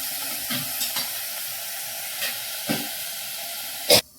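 Channa masala gravy stirred in a pan, giving a soft simmering hiss with occasional spoon scrapes and a sharp clink near the end.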